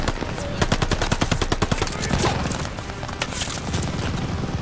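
Rapid machine gun fire in Call of Duty: Vanguard, a dense run of evenly spaced bursts in the first two seconds. Scattered shots and battlefield noise continue after it, with faint voices underneath.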